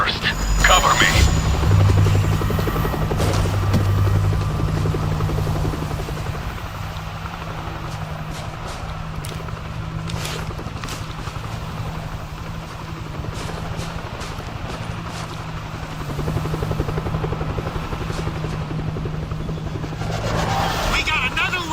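A helicopter in the World War Z Aftermath video game on the Kamchatka level gives a loud, continuous rotor thrum and engine whine throughout, steady with slight swells, amid faint game sounds.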